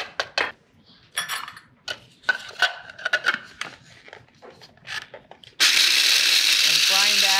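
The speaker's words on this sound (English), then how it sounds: "And grind that into almost a paste." Pistachios with salt and safflower oil are whirred into a near-paste, a loud, steady grinding roar that begins abruptly near the end after a stretch of people talking with scattered clicks and knocks.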